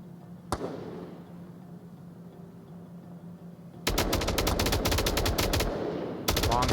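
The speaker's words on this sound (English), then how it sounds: "Long shots from Oak, suppressing fire" Bursts of rapid automatic gunfire from the VR shooter Onward during a competitive VRML match: a single distant shot, a quiet stretch, then a long loud burst of suppressing fire and a further burst near the end.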